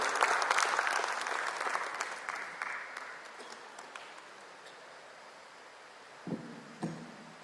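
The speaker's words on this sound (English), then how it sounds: "A warm round of applause for both our speakers" An audience at an ESG conference in Hyderabad claps for speakers walking on stage, a dense burst of applause that tapers off gradually, then a couple of isolated thumps near the end.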